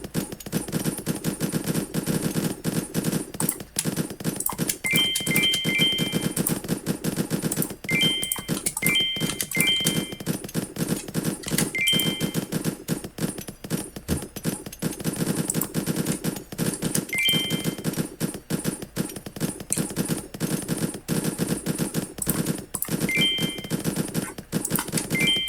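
Sniper towers in the tower-defense game Infinitode 2 fire penetrating bullets in rapid, dense volleys, a steady crackle of gunfire with occasional brighter tonal pings over a busy game soundtrack.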